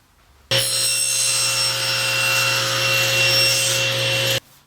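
A powered saw cuts through an ABS plastic blank for a GoPro mount, a loud steady whine with a bright cutting rasp that starts abruptly, runs about four seconds and stops cleanly, with no voices.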